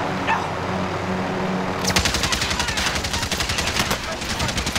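Enemy machine-gun fire in a video game: rapid, dense bursts of automatic shots begin suddenly and keep rattling on loud, with faint voices underneath.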